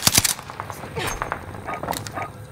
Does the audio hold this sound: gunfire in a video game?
yes